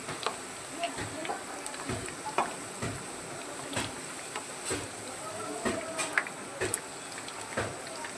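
Onion fritters (piyaji) fry in hot oil with a steady sizzle, broken by regular scraping and clacking as a utensil stirs the pan.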